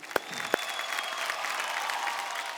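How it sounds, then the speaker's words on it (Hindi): Studio audience at a folk singing reality show breaking into applause, steady, moderately loud clapping with two sharp percussive hits near the start. "जोरदार ताली हो जाए"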